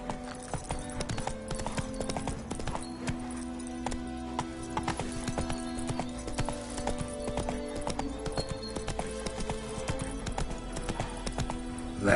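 Horse hooves gallop in a steady, rapid clip-clop rhythm with an occasional whinny, from a horse ridden across the countryside in The Witcher 3, close and continuous under layered game music.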